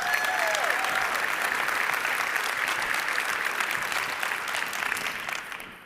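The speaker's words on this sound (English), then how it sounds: "another huge round of applause for our customer speakers" A conference audience applauds customer speakers, a dense, steady wash of clapping that fills the room for several seconds before tapering off at the end.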